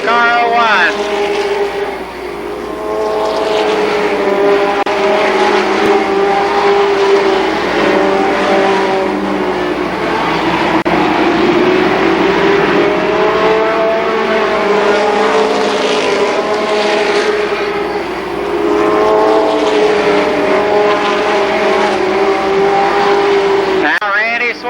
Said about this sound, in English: Now Randy Sword takes over second spot.